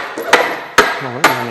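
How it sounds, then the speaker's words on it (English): Three sharp hammer taps on metal, evenly spaced and close, each ringing briefly after the strike. "You may need to come over here and tap them a little bit."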